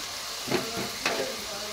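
Soaked raisins go into carrot halwa cooking with sugar in a pan, giving a steady low sizzle broken by two short, splashy bursts as they drop in.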